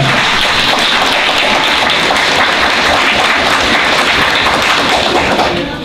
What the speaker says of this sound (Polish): Pani wojewoda Agata Wojtyszek, ogromne brawa.